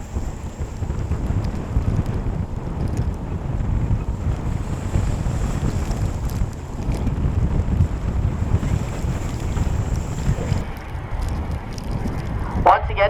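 The Edwin H Gott, a 19,400-horsepower Great Lakes freighter coming into Duluth, passes with a deep engine rumble droning steadily, mixed with strong gusty wind on the microphone.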